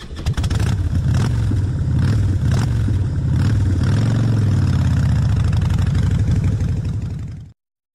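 A motorcycle engine revving loudly and close, a steady throaty roar that rises and falls over several seconds before cutting off abruptly, with no speech.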